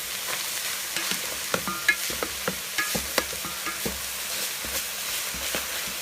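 Samosa meat filling stirred in a pan as its water cooks off, a soft continuous simmering hiss broken by irregular spoon taps and scrapes at close range.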